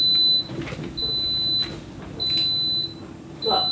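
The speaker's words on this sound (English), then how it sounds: "The rice has just beeped." A rice cooker signals it has finished with a series of four high, clean electronic beeps, evenly spaced, each held briefly over a quiet room background.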